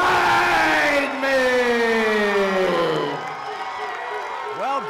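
A loud arena crowd roars and cheers at an MMA event as fighter Chris Weidman is introduced, with a ring announcer's drawn-out voice ringing over the steady, sustained crowd noise.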